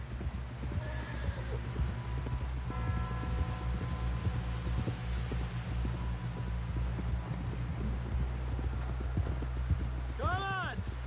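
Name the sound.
horse hooves clip-clopping, Red Dead Redemption 2 video game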